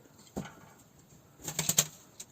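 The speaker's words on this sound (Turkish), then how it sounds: "Öyle karışık kuşlarımız var." Pigeons take off and flap their wings close by: a single burst of wingbeats, then a quick cluster of several louder flaps, against a quiet background.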